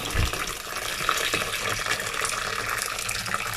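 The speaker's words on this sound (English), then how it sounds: "I'm going to add some hot water into the rice" Steady splashing of hot water poured into rice in a continuous stream, a close, broadband rushing that holds even for several seconds with no one speaking.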